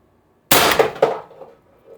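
A single sharp, loud crack from an Umarex TR50 air rifle firing a 12.7 mm steel ball bearing off an 800 psi tethered tank, followed by a quick metallic clang and a short fading ring, with no voices.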